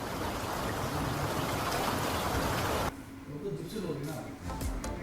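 Heavy rain pours steadily during flooding in Hong Kong, a dense roar of downpour that cuts away abruptly partway through, leaving a quieter wash of water and faint background voices.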